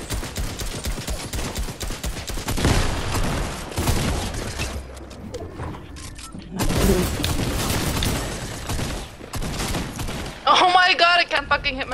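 Gunfire in a Fortnite Battle Royale squads match: rapid bursts of loud shots and booms, dense and continuous, with hurried voices talking over the fighting.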